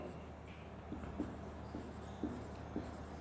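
Chalk or marker strokes write a sentence on a classroom board during a grammar lecture, sounding as a few short, soft taps and scrapes spaced about a second apart over a steady room hum.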